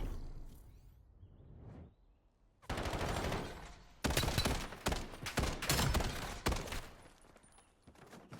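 Gunfire in a competitive first-person shooter esports match rattles in dense, loud bursts of automatic fire and scattered single shots, building from quieter pops into sustained volleys.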